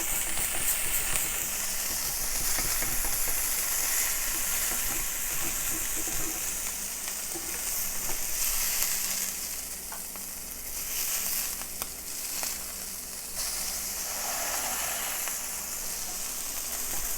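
Smashed burger patties sizzle loudly and continuously while being scraped and flipped, a dense crackling hiss with occasional scraping shifts. There is no talk.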